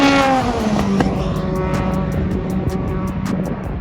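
A Dallara F3 race car runs on the Hockenheim circuit, its loud engine note holding a steady high drone with shifting pitch, close and continuous.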